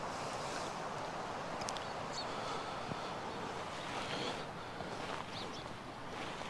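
A river rushes steadily beside a free campsite at Dickey Flat, New Zealand, a faint continuous broadband hiss of flowing water heard from a short distance with no clear voices over it.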